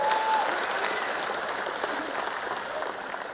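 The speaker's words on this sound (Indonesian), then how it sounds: "Tepuk tangan dong untuk Mas Ganjar dan Prof." An audience at a political rally for Ganjar and Mahfud claps steadily throughout, a dense wash of applause from a large crowd at moderate distance.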